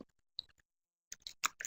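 Typing on a computer keyboard, a few quiet scattered key clicks, then a short cluster of quicker keystrokes after a pause, close and faint, with no talking.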